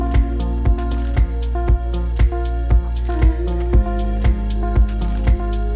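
A full drum kit plays a steady groove, each instrument carrying its own room reverb and blended with a general drum reverb in a mix, with regular punchy kick and snare hits and shimmering cymbals throughout.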